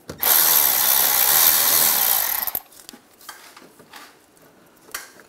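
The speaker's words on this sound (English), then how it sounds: "I'm going to remove this hose clamp. Just loosen that up. Use a 8mm socket." An 8mm socket on a power driver loosens the filler neck hose clamp on a 1996-2002 Toyota 4Runner, giving a loud steady whir for about two seconds that stops abruptly and leaves faint handling clatter.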